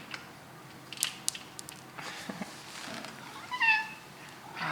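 A male cat meows a few times indoors, short rising cries close by, mixed with faint taps and rustles in a quiet room.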